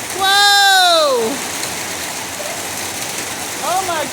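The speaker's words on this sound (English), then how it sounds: "I don't think it's ever rained this hard." Heavy downpour in Las Vegas hammers down as a steady, loud, dense hiss throughout, with an excited voice exclaiming over it at the start and again near the end.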